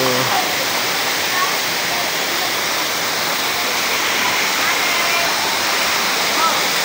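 Balagbag Falls in Real, Quezon, roars as a steady, loud, broadband rush of falling water heard close by, with someone talking over it.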